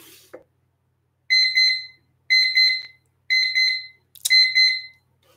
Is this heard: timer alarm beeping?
yes